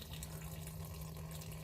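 Fuel pours steadily out of a 2005 Ford F250 during a fuel filter change, a continuous liquid rush with a low steady hum underneath and no voices.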